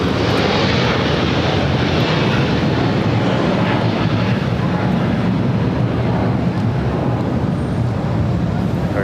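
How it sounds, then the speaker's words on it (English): Air France Boeing 777-300ER jet in SkyTeam livery, engines roaring loud and close as a steady, broadband rush that holds without a break. "Next is that SkyTeam livery on the Air France 777-300ER."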